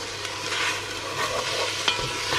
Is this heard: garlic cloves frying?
yes